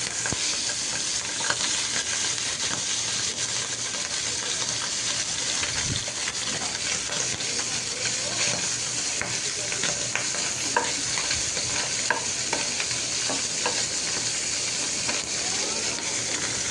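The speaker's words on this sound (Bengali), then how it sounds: "এরপর ট্যাংরা মাছগুলো হালকা করে ভেজে নিব।" Tengra fish frying lightly in hot oil in a pan, a continuous sizzle with occasional stirring and scraping, steady and close throughout with no talk.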